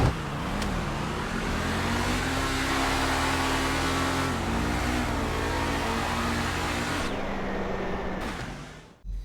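A car engine roars at full throttle during a street race through tunnels in GTA V, a loud, sustained drone that shifts pitch with gear changes and then cuts away abruptly near the end.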